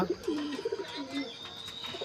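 Soft, low cooing of a Madrasi pigeon, a few gentle warbling calls heard faintly against quiet background noise.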